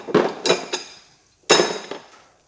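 Metal clanks and clinks as bolts and a steel plate come off a Massey Ferguson MF135 six-speed tractor gearbox during stripping: three sharp knocks in quick succession, a pause, then a louder clank and a softer follow-up, ringing briefly, close by.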